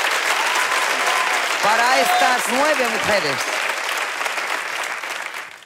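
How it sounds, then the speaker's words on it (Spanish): Studio audience applause on a Spanish game show, steady and loud throughout, with a person talking over the clapping midway and the applause tapering off at the end. "Un aplauso, por favor,"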